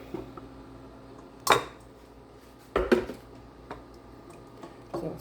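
Spinach scraped off a utensil into a pot in a home kitchen, heard as a few separate scraping clatters with quiet gaps between them.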